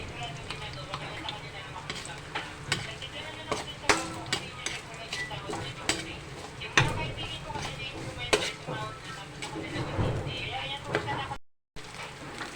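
Onion and dried anchovies cooking in a pan, with steady scraping, clattering stirs and utensil knocks against the pan; a voice talks throughout.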